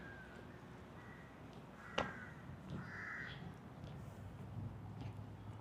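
A few crows caw in the open, one harsh call after another at moderate distance, with a sharp snap-like knock and a quiet outdoor background.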